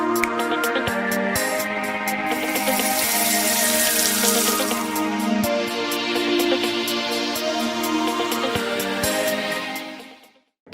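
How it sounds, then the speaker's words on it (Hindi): Water pours steadily into a cooking pan for about ten seconds, a loud continuous splashing gush with small clinks, then cuts off abruptly at the end. "इसमें हम 2 कप पानी डालेंगे"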